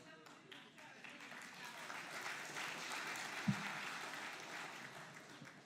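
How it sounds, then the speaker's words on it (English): A hall audience at a talk by Bishop Michael Nazir-Ali in Torquay claps after voting for the lion, a faint, distant wash of applause that swells gradually, with a single brief knock partway through. "those who voted for the lion are clapping"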